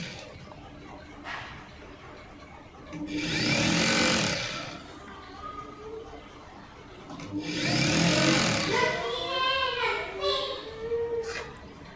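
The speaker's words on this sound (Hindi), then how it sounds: "हमें यहाँ पे सिलाई लगा देनी है।" A sewing machine stitches lehenga panels in two fast whirring bursts separated by a pause, and someone speaks between and after the runs.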